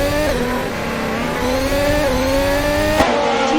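F1 race cars in the F1 2022 game at Barcelona scream continuously at high revs, the engine pitch climbing through gears with a brief sharp shift near the end, loud and close with no talking.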